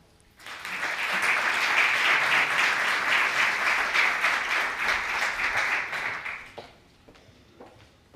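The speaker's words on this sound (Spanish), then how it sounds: "Un aplauso." An audience applauds a university vice-rector of innovation and transfer at a welcome event in Valencia, dense steady clapping for about six seconds before it fades out quickly, leaving scattered faint claps.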